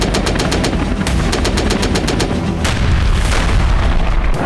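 Rapid machine-gun bursts and heavy booms of gunfire and shelling ring out on the Russia-Ukraine front line near Kherson, with loud, dense, rhythmic rattling over a rumbling background.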